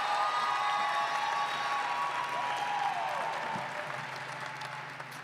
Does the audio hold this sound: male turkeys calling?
no